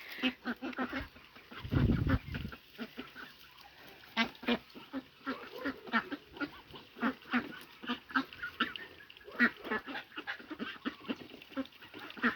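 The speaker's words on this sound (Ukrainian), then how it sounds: "Радіють життю качечки." Ducks quack repeatedly in quick, uneven bursts nearby, with a brief low thump early on and faint background noise throughout.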